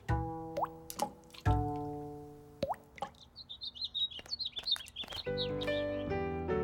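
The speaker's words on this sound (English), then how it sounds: "Why don't we collect the drips overnight and see how much water a dripping tap wastes?" Water drips from a leaky tap into a bucket in a cartoon home, slow single plinking drops at irregular intervals, then chirping birds and soft musical tones take over.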